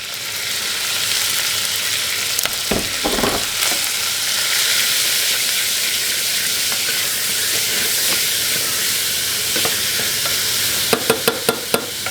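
Streaky bacon sizzles and fries steadily in a pan, a continuous close hiss and crackle with a few brief stirring scrapes near the start and some sharp clicks near the end.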